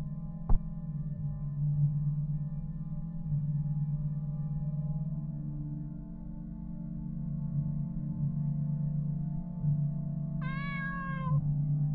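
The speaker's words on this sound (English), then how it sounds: "Is this for me? It's all for you, kitty." A cat meows once in a video game, a short bright rising call near the end over a steady low droning hum, with a sharp click early on.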